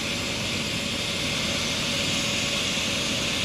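Helicopter landing and taking off on Braden School Road in Chippewa, a steady broadband rotor and turbine roar held at moderate distance without pause.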